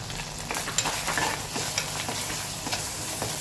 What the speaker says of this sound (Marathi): ती पण आपल्याला चांगली तेलात ना परतवून घ्यायची